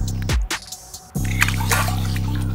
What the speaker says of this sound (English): Let's go ahead and give this guy a nice little release in the water here.